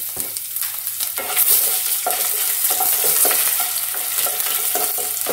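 Crushed garlic, chana dal and cumin fry in hot oil for a vendakka thoran, a close, steady sizzle broken by repeated rhythmic stirring scrapes throughout, with no voices.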